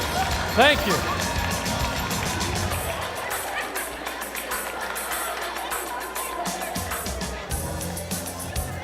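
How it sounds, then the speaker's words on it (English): An audience claps and cheers at a live magic show, a dense sustained wash of applause with crowd noise throughout, briefly loudening near the start. "Give him a round of applause."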